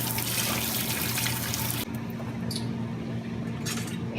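Water runs steadily from a tap into a plugged sink holding a large batch of tomatoes, then the flow drops to a softer trickle and splash as the tomatoes are rinsed.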